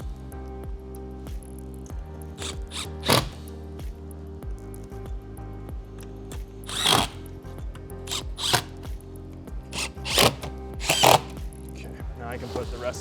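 Power drill driving screws to fasten drawer slides into pre-drilled holes on a cabinet, heard as several short bursts of whirring spread through the clip, with a steady hum and small workshop clatter between them.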